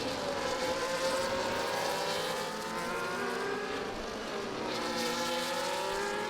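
Formula 1 race cars in the F1 24 video game scream past at the Circuit of the Americas in a dense, continuous high-pitched engine whine. Several overlapping cars shift pitch as they pass, with no voices.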